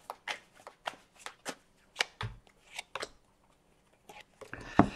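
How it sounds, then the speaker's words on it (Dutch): Tarot cards are shuffled by hand in a quick series of crisp riffling bursts, close and clear, with a brief rustle and tap at the end; no one talks. "De kaarten schudden om te kijken wat deze week voor de stier gaat brengen."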